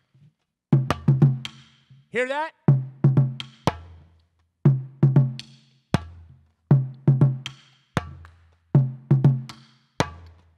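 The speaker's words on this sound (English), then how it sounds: "This is called the bass," Bass strokes on the middle of a hand drum ring out as deep, booming hits, repeated in a steady rhythm of single and doubled strikes. A voice speaks briefly between them.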